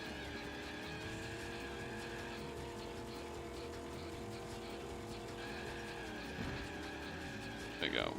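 Kart engine revving steadily in Crash Tag Team Racing, with a drawn-out drift and tire squeal building near the end; the engine drone runs loud and continuous throughout.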